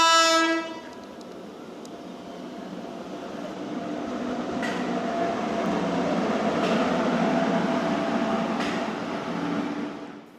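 A train passes a railway level-crossing gate at Kottikulam in Kasaragod, opening with a loud horn blast, then a long, swelling rumble of wheels and carriages rolling by that fades near the end.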